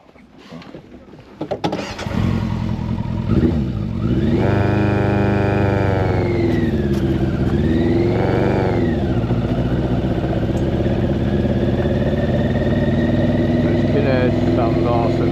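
A Yamaha Fazer 600 motorcycle starts and rides off, the engine rising from a low idle to loud, revving acceleration with gear changes and a sustained roar.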